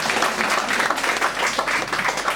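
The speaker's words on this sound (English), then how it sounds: "Round of applause, please." A round of applause at a charity auction in a cafe after a lot sells for eighteen pounds; brisk, close, fairly loud clapping from a small crowd for a couple of seconds.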